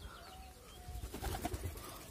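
A young pigeon takes flight with a quick flurry of flapping wings, close and soft against outdoor background noise, with faint chirps nearby.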